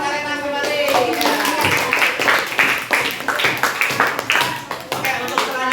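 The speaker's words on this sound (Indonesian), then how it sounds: "Tepuk tangan buat kelompok 1 ya." Audience members at a teaching-practice workshop clap for a presenting group, a dense burst of many hands that swells and fades over several seconds.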